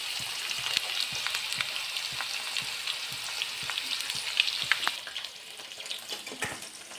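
Whole okra frying in hot oil in a pan, a steady dense sizzle with scattered sharp crackles and pops throughout, slightly quieter in the last couple of seconds, no voices.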